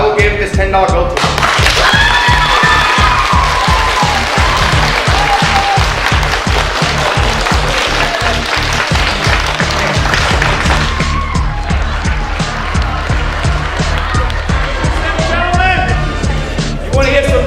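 A school audience claps hard in a rhythmic, pounding burst to win a prize, loud and close. Voices shout over it, and after a short lull the applause picks up again.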